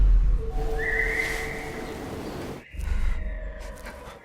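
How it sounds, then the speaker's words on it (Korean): A faint, far-off whistle carries a single sustained tune over a low rumbling background, thin and eerie in the distance. "저 멀리서 들려오는 정체불명의 휘파람 소리."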